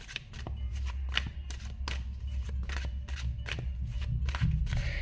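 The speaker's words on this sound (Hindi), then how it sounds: "जब मैं ये कार्ड्स निकाल रही थी" Tarot cards are shuffled and drawn from a deck, giving a fairly close run of crisp riffling and flicking bursts that repeat steadily across the stretch, with no voices.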